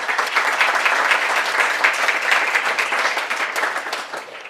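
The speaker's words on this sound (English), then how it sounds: "Let's give a round of applause for Rafael." Sustained audience applause at a public debate on extending NYC rent regulation, a dense, steady wash of clapping from a crowd that holds evenly for several seconds before tapering slightly at the end.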